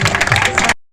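Audience applause at a Krishna Janmashtami children's event at a Mahadev temple, a close, dense burst of clapping lasting under a second before cutting off abruptly.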